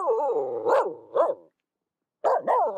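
A dog barks happily out in the snow, two short bursts of yapping barks, then a pause, then two more, loud and close with no talking.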